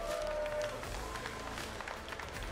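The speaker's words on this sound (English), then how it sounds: "let's give these two warriors a big round of applause" Arena crowd at an EFC 103 fight night applauding two fighters after the bout, a steady roar of clapping and cheering throughout, with a faint voice over the crowd.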